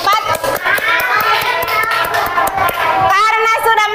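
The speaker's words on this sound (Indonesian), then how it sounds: "kelompok 4 tepuk tangan dulu" Schoolchildren in a classroom clap their hands in quick bursts while young voices chatter and call out loudly over the claps.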